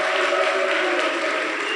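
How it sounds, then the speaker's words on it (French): Steady broadband applause from an audience cheering the orchestra musicians at an outdoor concert show, continuous and even throughout with no pauses. "il faut les applaudir encore une fois"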